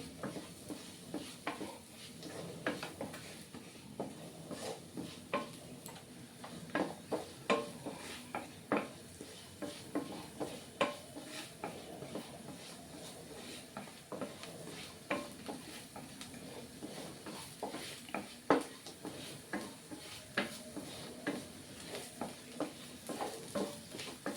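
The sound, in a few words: stirring masala frying in a pan for prawn roast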